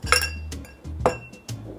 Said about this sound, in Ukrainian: Далі висока склянка. Колінс. Додаємо декілька шматочків льоду.